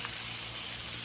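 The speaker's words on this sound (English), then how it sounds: "Chicken frying." Chicken steam-fries in a rice pot with a brief, steady, even sizzle at moderate loudness and no voices.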